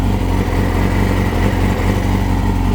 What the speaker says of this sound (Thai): รอบไม่มีสวิงครับเครื่องยนต์ปกติทุกอย่างสมบูรณ์มากนะครับ